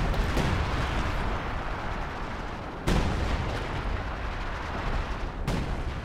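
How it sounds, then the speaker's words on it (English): A howitzer barrage in the video game Company of Heroes 2 lands as heavy booming impacts, with big blasts at the start, middle and near the end over a constant rumbling roar of battle. "There we go, in comes the howitzer now."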